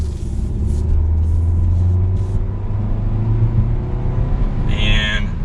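A 2022 Kia K5 GT Line in sport mode accelerates with a low, steady engine drone and road rumble heard from inside the cabin; a brief hiss or chime shows up near the end.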